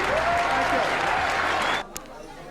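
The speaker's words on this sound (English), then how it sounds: "Let's have a big round of applause for Alex Conyers." Loud, dense applause from a crowd welcoming a comedian to the stage fills most of the moment, then cuts off abruptly near the end, leaving quiet room sound.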